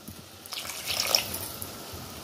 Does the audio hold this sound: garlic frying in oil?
no